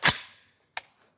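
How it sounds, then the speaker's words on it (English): An AK-47 rifle fitted with a red dot sight fires one loud, sharp report with a fading tail, then a shorter, fainter crack follows about 0.7 seconds later. "We're gonna shoot this with just the red dot."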